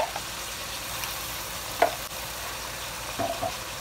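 Chicken fries in a pan with ground garlic-ginger paste as it is stirred, giving a steady low sizzle with a couple of brief scraping clinks; no one speaks.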